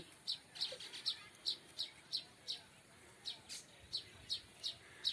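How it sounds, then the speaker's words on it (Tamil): Short, high-pitched weaver bird calls from a nest repeat steadily about twice a second for several seconds, fairly faint against a quiet background. "அந்த தூக்குனா குருவி கத்துற சவுண்டு கேட்குதுங்களா உங்களுக்கு"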